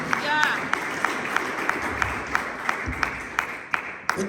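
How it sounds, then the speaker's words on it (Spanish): A church congregation clapping together as an offering of praise, a steady run of sharp, evenly spaced claps filling the room with scattered voices underneath. "Regale una ofrenda de palmas al Rey."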